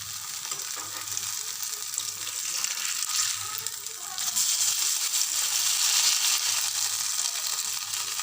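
Gime shak fritters frying in oil in a pan over lowered heat, a steady close crackling sizzle that swells louder about halfway through, with faint scraping from a spatula and no voices.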